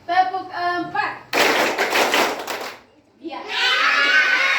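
Schoolchildren in Indonesia chant in a rhythmic singsong, then burst into a quick run of clapping, followed by more group chanting.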